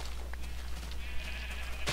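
Sheep in Minecraft give a couple of short bleats, faint and close, over a low steady hum, with no talking.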